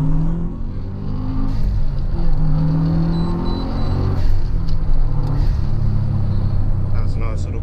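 A heavily modified 2006 Subaru Forester XT of about 300 hp pulls hard in second gear, its engine rising in a loud, steady climb from inside the cabin, with a voice faintly present underneath.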